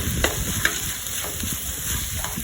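Chicken and mushrooms being stirred in a hot pan after seasoning with salt and pepper, a steady sizzle with a few scraping knocks of the utensil against the pan, close and moderate in level.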